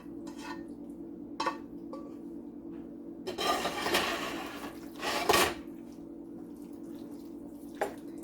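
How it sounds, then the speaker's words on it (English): Sausage being stirred into tender red beans in a pot: quiet scraping and clinking of a spoon against the pot, with a few louder knocks and wet shuffles, set against a steady low kitchen hum. "And I'm going to get that stirred in a bit."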